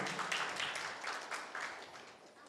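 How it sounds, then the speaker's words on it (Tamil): An audience at a book review event applauds a singer, a steady wash of clapping from many hands that continues evenly and slowly fades slightly. "அவர்களுக்கு மிகப்பெரிய கைத்தட்டு கொடுத்துருவோமா"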